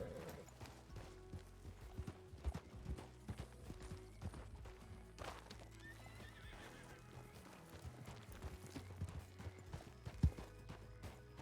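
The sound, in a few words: horse hooves and neighing in video game WildRP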